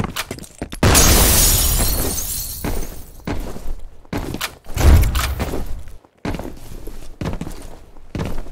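Grenade blast in the shooter F.E.A.R.: a loud burst of explosion and shattering debris near the start, followed by scattered thuds, impacts and clattering bits of combat noise, with no talk.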